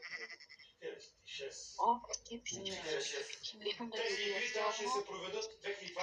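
Wavering sheep bleats mixed with voices talking, close but fairly quiet, the bleating rising and falling over several seconds.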